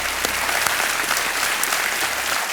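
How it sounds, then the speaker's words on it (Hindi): Studio audience on a Hindi TV quiz show applauding a contestant, a full, sustained roar of clapping hands at steady loudness that cuts off at the end. "एक बार फिर तालियां बज जाएं इनके लिए।"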